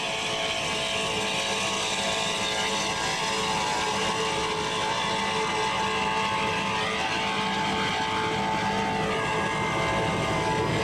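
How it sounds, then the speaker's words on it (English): Loud, continuous roar of powerful racing powerboat motors at high speed on calm water, a dense buzzing drone with shifting pitch that never lets up. "They really drive that boat. Listen to those motors."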